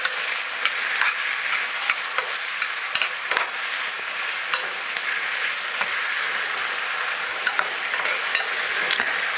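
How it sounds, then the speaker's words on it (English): Pasta primavera vegetables cook briskly in a pan with a constant crackling sizzle and frequent sharp pops and spatters, heard alone without talk. "Give it another 3 minutes there while this simmers away."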